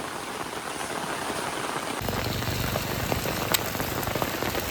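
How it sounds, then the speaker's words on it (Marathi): Heavy rain pours steadily on surfaces in a village, a dense continuous patter that gets louder and fuller partway through, with no voices. "हे बघा, दिवसभराचा पाऊस आजच पडतोय."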